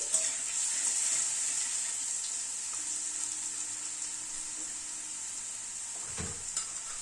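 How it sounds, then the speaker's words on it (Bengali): Crushed garlic cloves are stirred in a little hot oil, giving a faint, steady sizzle with a spoon scraping the pan now and then. "রসুনটা দিয়ে একটুখানি তেলের উপর নেড়ে নিচ্ছি।"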